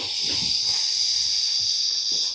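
A steady, loud hiss of escaping air runs unbroken from start to finish, with faint low rustling beneath it, as air is pushed out of a motorcycle luggage dry bag being rolled shut.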